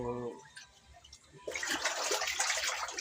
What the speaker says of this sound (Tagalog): nagsis ako ng tubig